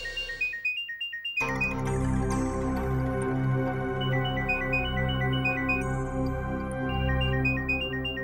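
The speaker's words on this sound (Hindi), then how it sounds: "घरू फोन आसछि।" A phone ringtone for a call from home, a repeating electronic melody that starts after a short quiet pause and rings on loudly and steadily, its phrase cycling several times.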